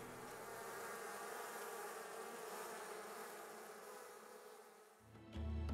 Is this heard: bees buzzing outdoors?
yes